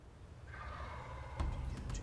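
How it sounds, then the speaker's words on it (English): A wild turkey gobbles during a spring turkey hunt, a single drawn-out rattling call that sounds fairly close above a low outdoor rumble, with no talking. "We finally heard a gobble that was much closer"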